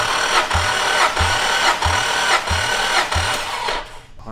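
Junkyard engine cranking over on the starter during a compression test, a steady rhythmic thumping of about six even beats, close and loud with no talk, ending abruptly.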